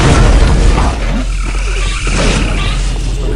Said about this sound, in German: Wieder mal eine übertriebene Explosion.